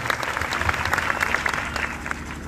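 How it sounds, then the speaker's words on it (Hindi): An audience at a Suheldev Bharatiya Samaj Party political rally claps to welcome a speaker, giving dense, sustained applause from a crowd that holds steady throughout. "एक बार फिर से ताली बजा के इनका स्वागत कर दीजिए।"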